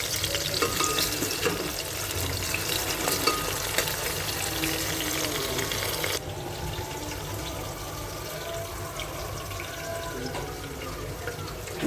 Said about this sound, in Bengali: রসুন পেঁয়াজটা ভালো করে ভেজে নেবো একদম কড়া করে ভেজে নেবো রসুনটা